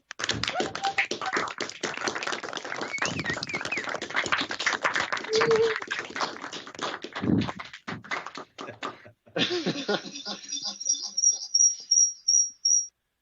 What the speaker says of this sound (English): Let's all provide a round of applause for Kevin.